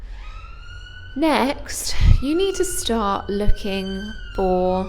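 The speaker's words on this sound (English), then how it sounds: "sorry about the siren" An emergency siren passes outside, rising and falling in clear wails, while a person talks steadily over it close by.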